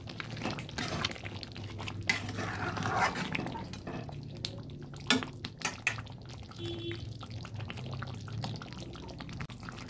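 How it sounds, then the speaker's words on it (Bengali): Mutton kasa curry being stirred in a pot with garam masala and meat masala, giving scraping, clattering spoon-on-pot sounds with wet splashes, moderately close and steady over a low background hum. "নেড়ে দিচ্ছি।"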